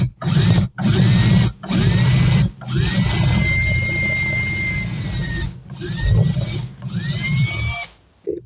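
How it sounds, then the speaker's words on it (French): A power drill boring through a clogged part, in several whirring bursts of a few seconds each with short pauses between, loud and close, pitch rising as each burst spins up. "je vais venir la percer comme ça"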